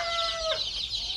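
Chickens cluck in a short burst at a farm in Japan, with a sharp call near the start sliding down into a steady broadband background of hens, fairly close and continuous.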